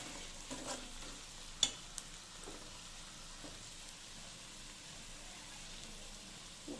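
Turmeric, coriander-cumin powder and salt being stirred into a cooking pan for sev usal, a faint soft sizzle with a few light spoon taps against the pan.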